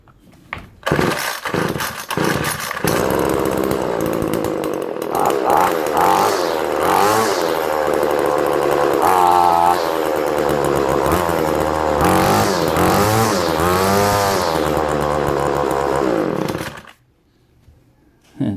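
A two-stroke trimmer-line brush cutter is pull-started and catches, then runs loud and buzzy with rising and falling revs before being cut off, leaving near silence.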